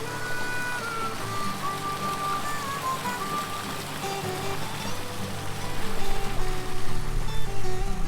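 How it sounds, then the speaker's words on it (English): A little brook trickles and burbles steadily along a walking path on a spring day, with birdsong whistling over the top and the flow growing a bit louder near the end. "we've been walking along a little brook of water. So you've got the water sound"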